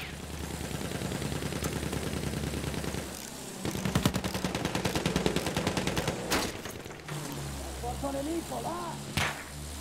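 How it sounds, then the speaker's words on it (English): Enemy gunfire in a Battlefield 1 match, with sustained rattling bursts and sharp cracks of rifles and machine guns, then a brief lull and a few more distant shots and whip-like snaps, with faint voices in the mix. "They are shooting at us."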